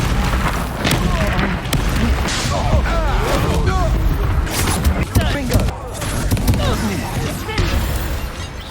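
Confringo blasting-spell explosions from the Hogwarts Legacy video game boom and crash repeatedly and loudly, with voices talking over the blasts throughout.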